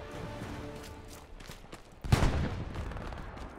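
Gunfire bursts in the WW2 shooter Hell Let Loose, steady rumble of battle through the first half, then a sudden loud, close burst that rolls on as dense, noisy firing and echo to the end; no talking.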